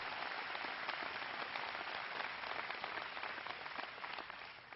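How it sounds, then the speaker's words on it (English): At a health care reform rally, a large audience applauds in a steady wash of clapping that holds throughout, fairly faint and distant. "Schweitzer and his lovely wife Nancy a big round of applause"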